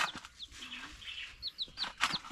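Chickens cluck and chirp outdoors near a forest, several short calls in uneven bursts at close range, with other bird sounds mixed in.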